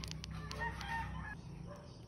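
A rooster crows once near a roadside spot tied to sabong cockfighting, a clear, moderately distant cock-a-doodle-doo over a low background hum.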